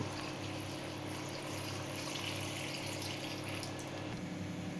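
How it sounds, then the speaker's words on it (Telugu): Water pours into a cooking pot along with salt, turmeric, tamarind and a little oil for a lunch being cooked at an old-age home, giving a continuous close splashing stream with a steady low hum beneath it. "నీళ్ళు పోస్తున్నానండి"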